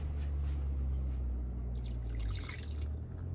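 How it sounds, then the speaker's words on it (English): Water poured into a measuring cup while making pumpkin bread in a home kitchen: a soft trickling splash over a steady low hum, brighter toward the end, with no talking. "Okay, and then I need 3/4 cup of water."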